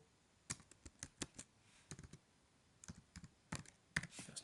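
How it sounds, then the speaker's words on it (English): Someone types a name on a computer keyboard in irregular bursts of crisp, close key clicks separated by short pauses, with no talking. "you type in the name"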